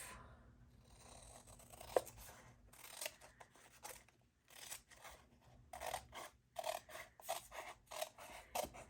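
Scissors cutting through paper while making a junk journal, a close, quiet run of crisp snips and rasping blade strokes that grows busier and more rhythmic in the second half, with no talking.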